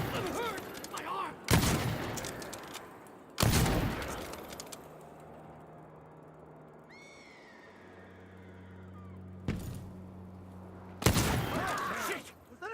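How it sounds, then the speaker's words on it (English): Gunfire in Dishonored 2, several sharp broadband bursts spaced a few seconds apart, loud and close, with quieter ambient game sounds and a brief bird-like call between them. "Was that a gunshot?"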